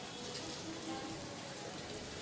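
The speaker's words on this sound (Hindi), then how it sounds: "ये हो रही है बारिश" Rain falls outdoors on a road on a cloudy evening, a dense steady hiss of drops hitting the surface, with faint background sounds and no speech.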